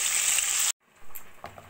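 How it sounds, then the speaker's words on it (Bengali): Eggplant slices frying in hot oil give a steady, loud sizzling hiss that cuts off abruptly, followed by quieter, softer sizzling. "একইভাবে আমি বাকি বেগুনগুলো ভেজে নেব"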